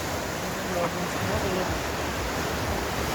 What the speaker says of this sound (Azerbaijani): Bu əlincə çaydır. Belə Ərəfsə kəndi arasından keçir.